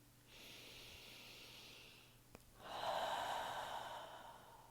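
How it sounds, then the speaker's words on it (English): Two slow, deep breaths drawn close to the microphone, a long airy inhale followed by a stronger, louder exhale, with no speech. "Take a couple of deep breaths as if your palm is breathing into your heart."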